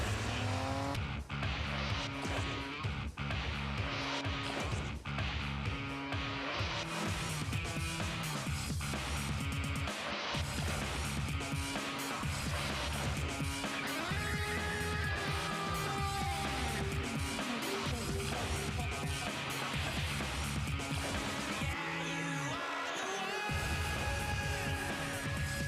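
A car starts and drives in a television advert aired during a college football broadcast, with engine roar and squealing tires blended into a loud, dense music bed that runs without a break and with no talk.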